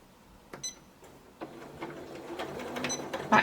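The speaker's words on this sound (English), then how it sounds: "press the presser foot down, put the needle down" A home sewing machine stitching a straight seam along the edge of fabric for a small square pin cushion, starting with a few ticks and then building into a steady, close mechanical whir.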